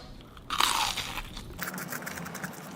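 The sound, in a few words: crunchy bite of fried spam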